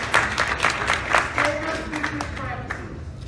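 Audience applause at a retailers' question-and-answer session during a diamond industry summit, a scattered burst of clapping from a moderate crowd that rises and fades over a few seconds, with murmured voices mixed in.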